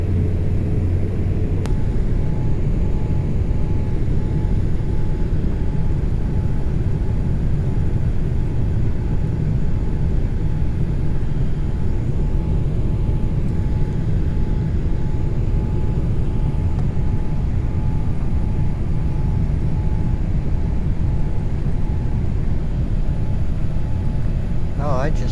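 Steady airplane cabin drone on a plane coming in at night, a constant low roar throughout with faint hum and a soft voice occasionally underneath.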